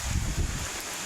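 Strong gusting wind from Typhoon Christine roaring over the microphone outdoors among toppled banana plants, a broad, continuous rumble with low buffeting surges.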